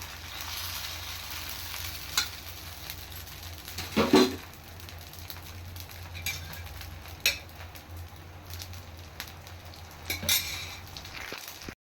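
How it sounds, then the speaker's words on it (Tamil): Thick adai batter is poured onto a hot pan and sizzles steadily. A few sharp metallic clinks and scrapes of a ladle or spatula break in over the continuous frying hiss. "இப்போ நான் அடைக்கு ஊற்ற போகிறேன். கொஞ்சம் தடியாக தான் ஊற்றணும்."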